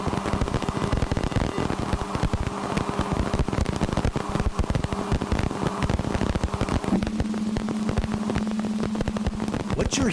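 A space probe recording of dust grains striking near Uranus's rings, rendered as dense crackling, popping static with rapid irregular clicks throughout, steady and loud, with a faint sustained hum entering toward the end.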